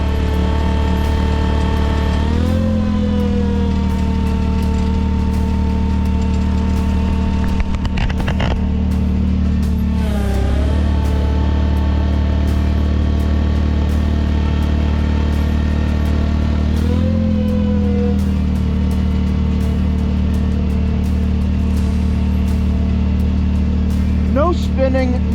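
A tractor fitted with tire chains idles steadily while climbing a steep slope, its low engine drone loud and constant throughout, with brief dips and shifts in tone.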